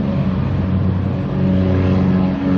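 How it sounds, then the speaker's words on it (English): A 1940 Waco biplane's Continental R670 seven-cylinder, four-cycle radial engine of about 220 horsepower drones steadily, a continuous throbbing rumble at even loudness with no voices. "The Waco is powered by a Continental R670 seven-cylinder four-cycle radial aircraft engine producing about 220 horsepower."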